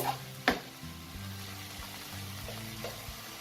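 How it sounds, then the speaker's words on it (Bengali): Spices with Kashmiri red chili powder and cumin are stirred in a pan for egg biryani, a quiet sizzle with a sharp utensil knock near the start and soft scraping after. "দিয়ে মশলাটাকে খুব ভালো করে মিশিয়ে নেব।"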